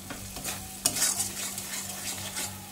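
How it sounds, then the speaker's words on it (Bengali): Food frying in oil in a pan, stirred after salt is added, with soft scraping strokes of a utensil over a low steady sizzle and a faint electrical hum beneath. "নুন দিয়ে আবার একটু নেড়ে দেওয়া হবে"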